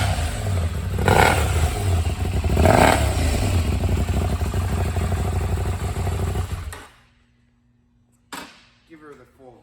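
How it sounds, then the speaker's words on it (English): A 2020 KTM Duke 790 motorcycle engine idling and revving up close, a steady loud growl with two rising throttle blips, then cutting off abruptly into near silence and a few clicks. "Let me show you what she sounds like when she's on."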